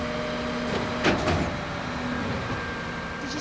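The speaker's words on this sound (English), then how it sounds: "These bin lorries certainly are noisy, aren't they?" A noisy bin lorry collecting rubbish in a market, its engine droning steadily with a sustained hum and a brief clanking surge midway, heard without talking.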